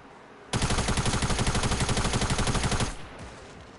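Rapid, loud, continuous gunfire in a video game, a dense rattling string of shots lasting over two seconds before cutting off, close and alone.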